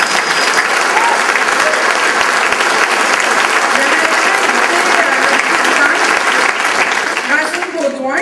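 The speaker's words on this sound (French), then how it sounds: "Une bonne main d'applaudissement" Dense, loud audience applause at a community event in Plessisville, steady clapping from a crowd that carries on for several seconds and thins slightly at the very end.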